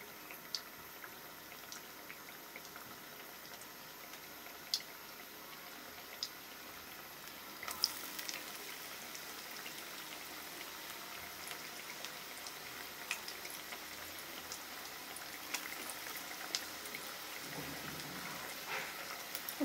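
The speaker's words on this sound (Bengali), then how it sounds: "এভাবে ডোনাটগুলো ভেজে নিব।" Donuts made with red amaranth fry in hot oil, a soft, continuous bubbling sizzle with scattered crackles and pops that grows slightly louder midway, with no talking.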